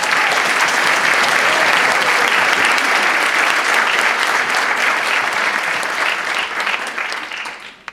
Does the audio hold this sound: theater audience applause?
yes